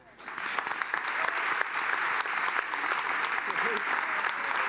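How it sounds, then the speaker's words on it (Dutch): Audience applause at a Dutch psychology congress, the NIP congress, a dense, steady wash of many hands clapping that swells in quickly and holds loud throughout, with a few voices mixed in. "Het allerhardste applaus voor vandaag"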